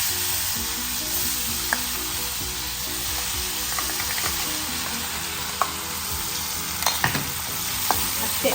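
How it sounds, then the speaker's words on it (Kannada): Andhra-style curry leaf chutney hits a hot tempering of asafoetida and turmeric in oil, setting off a loud, steady sizzle with faint clicks of stirring throughout. "ಈ ಚಟ್ನಿ ಅದಕ್ಕೆ ಹಾಕೊಳ್ಳೋಣ."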